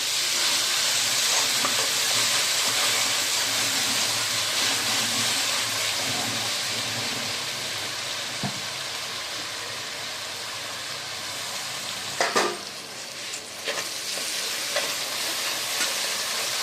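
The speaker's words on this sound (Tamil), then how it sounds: "எல்லாமே சேர்ந்து நல்லா வதங்கட்டும்." Tomatoes sauté in a pan for a soya kurma, producing a continuous hissing sizzle that eases a little partway through, with a brief clatter of stirring near the end.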